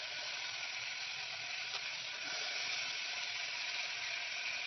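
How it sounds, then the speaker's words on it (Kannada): Soaked moong dal tipped into a hot oil tempering, producing a continuous even hiss of sizzling that holds steady for several seconds with no talking. "ಒಂದು ಸ್ವಲ್ಪ ಹೆಸರು ಬೇಳೆ ನೆನೆಸ್ಕೊಂಡಿದ್ವಿ ಅದನ್ನು ಹಾಕ್ತಾ ಇದೀವಿ ಒಗ್ಗರಣೆಗೆ."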